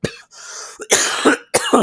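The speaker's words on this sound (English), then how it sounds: "That was a bad time for that cough to happen" A few sharp, close coughs break into a NASCAR Winston Cup race broadcast from Darlington, loud bursts separated by brief silences.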